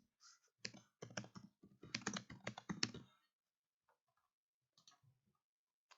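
Text typed on a computer keyboard into a charting program, a quick burst of close key clicks lasting about three seconds, then a few scattered taps in near silence.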